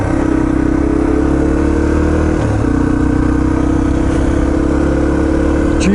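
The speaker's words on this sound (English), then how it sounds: "warmed up the bike" A Yamaha TT-R230 dirt bike engine idles and warms up in a park parking lot, a loud, close, steady putter with one brief dip in pitch midway.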